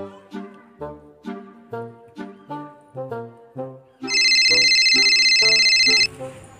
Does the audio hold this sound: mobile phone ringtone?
yes